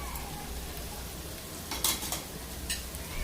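Vegetables sizzle softly in a pan at home while being stirred, a faint steady frying hiss with a few light scraping and clinking sounds from the utensil.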